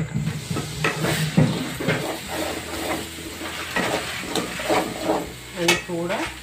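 Tomatoes go into a hot pan for a Marathi-style fish curry, with an uneven sizzle broken by repeated scraping and stirring knocks, while a voice speaks briefly over the cooking.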